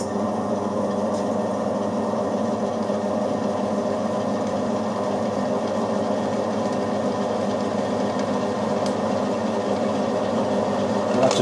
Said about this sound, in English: That's a pilot drill through.